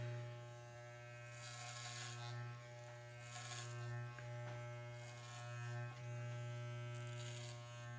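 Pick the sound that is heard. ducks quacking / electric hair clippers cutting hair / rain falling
electric hair clippers cutting hair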